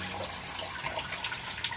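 Water flowing from a pipe into a concrete tank, a steady close splashing gush that runs unbroken and fairly loud throughout.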